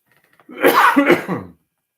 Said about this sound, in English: Sorry, everybody. I got the cough.